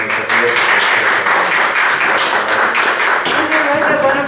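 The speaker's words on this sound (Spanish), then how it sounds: "les pido por favor que recibamos con un fuerte aplauso" Steady audience applause at a talk on labor law fills the whole stretch, dense overlapping clapping at an even loudness with a faint murmur of voices underneath.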